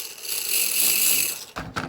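Gears in an SCX24 RC crawler's aluminum transmission spin freely, giving a steady, fairly quiet high whir that rises and falls a little, then ends with a couple of brief mechanical clicks.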